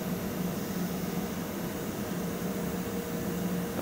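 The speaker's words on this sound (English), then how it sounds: "Apologies for the extraction fan." An extraction fan runs in an airbrush workshop, giving a steady, loud broadband whoosh with a low hum that stays constant throughout, with no talk.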